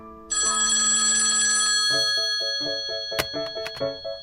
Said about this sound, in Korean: 그때 전화벨이 울렸다